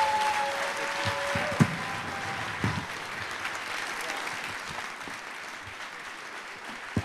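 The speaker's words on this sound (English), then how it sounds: "let's give them a round of applause" Audience applause at a 1 Million Cups community event, steady moderate clapping from a crowd that slowly fades, with a faint tone and some voices early on.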